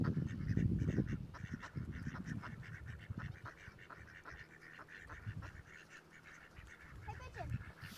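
Ducks and geese honk and quack around a pond, with a steady run of overlapping calls, loudest in the first couple of seconds and continuing through, joined by some lighter bird chatter.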